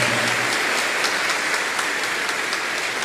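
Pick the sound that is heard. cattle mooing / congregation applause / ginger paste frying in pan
congregation applause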